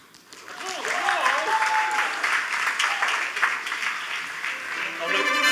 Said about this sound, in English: You've got to keep applauding until they get up the stage